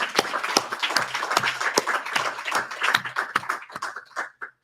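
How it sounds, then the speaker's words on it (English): Audience clapping at a community ethnic studies event, a dense burst of hand claps that thins out toward the end. "we should applaud each of these achievements"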